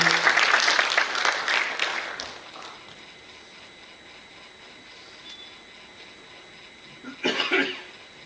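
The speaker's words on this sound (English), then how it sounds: "I think we should give a big applause for Hanif and say thank you to him for comin" Audience applause at a memorial gathering in a New Delhi hall, a burst of clapping that fades out after a couple of seconds, followed by quiet room tone, a cough and a short later flurry of sound.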